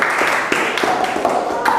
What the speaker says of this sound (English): Give applause to this team first.